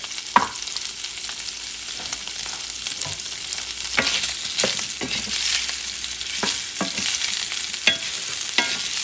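Salchichon sausage browning in a frying pan for arroz con salchichon, with a loud, close, crackling sizzle punctuated by repeated utensil scrapes and taps against the pan.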